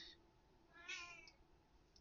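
A pet cat gives a faint, brief meow or two in a quiet room, soft and somewhat distant with little else around.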